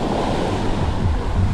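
Ocean surf rolls and crashes in a continuous loud wash at a beach bike festival in Anaclia, with wind buffeting the microphone and no voices.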